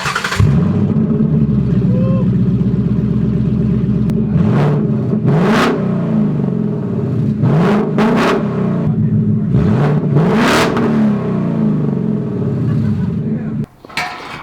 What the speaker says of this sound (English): this is what open dump Mustang sounds like